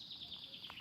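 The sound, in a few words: birds singing by a lake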